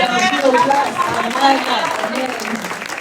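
Applause and cheering from a church congregation at a women's conference, a dense steady wash of clapping mixed with crowd voices, lasting throughout.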